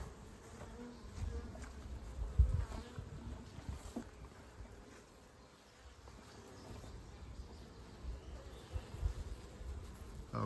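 Honey bees swarm thickly inside a full honey super on a double nuc hive, a dense, steady buzzing hum that swells and eases slightly, close to the open box, with occasional knocks and handling noises.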